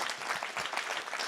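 An indoor audience breaks into applause at an evening talk, a short burst of dense, even clapping from many hands, heard alone at moderate volume.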